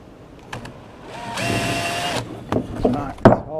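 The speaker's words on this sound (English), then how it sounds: "before I drill" A short whine of an electric drill spinning for about a second while building a sprinkler, close up, among handling clicks and knocks.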